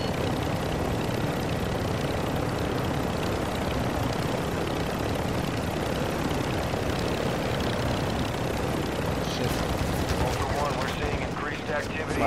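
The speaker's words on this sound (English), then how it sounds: "I'm getting some serious gunfire coming at me from here." Steady, dense bursts of gunfire in the video game DMZ roar on without a break, loud and close, with an engine-like rumble running underneath.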